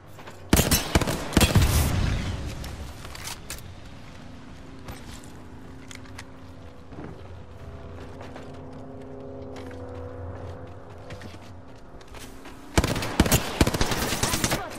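Video game firefight with bursts of rapid automatic gunfire at the start and again near the end, loud and close, separated by a quieter stretch of engine-like hum and scattered distant shots.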